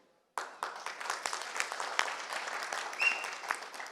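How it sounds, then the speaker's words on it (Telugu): Audience applause fills a hall at a Telugu film event, starting abruptly after a brief silence and continuing as dense, steady clapping from a large crowd with a few louder peaks. "క్షమించాలి, చప్పట్లు కొట్టడం కోసం చెప్పలేదు నేను"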